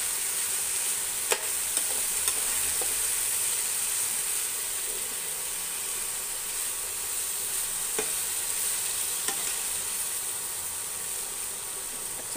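Potatoes and spices with coriander powder sizzle and fry steadily in a pan, a continuous bright hiss with occasional scrapes and clicks of stirring, close and alone.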